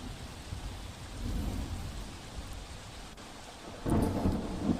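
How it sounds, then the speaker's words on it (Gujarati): Heavy rain pours down in Chhota Udepur during a thunderstorm, a dense steady hiss broken by low rolling thunder that swells partway through and again near the end. "છોટાઉદેપુર જિલ્લામાં ધોધમાર વરસાદ, ભારે વરસાદથી પાણી ભરાયા"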